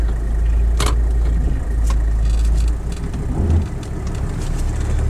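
A 1979 Mercedes 300SD turbo diesel with a vacuum issue being driven, producing a steady low engine drone and road rumble from inside the car, with a couple of brief clicks and shifts in tone.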